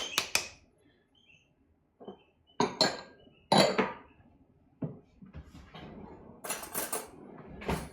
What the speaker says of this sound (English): I'll give those a good old mix.